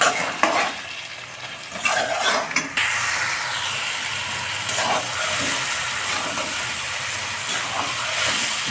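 Taro stolons and shrimp with ground dried chili and cumin are stirred in hot oil, with scraping and clinking of a spoon against the pan over a steady loud sizzle.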